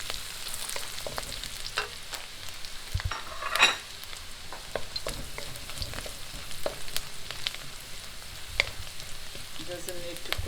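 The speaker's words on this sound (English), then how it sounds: "Now you fry the garlic just for a minute or so" Garlic fries in a pan with a soft, continuous sizzle and crackle, and a scattering of small clicks and pops throughout.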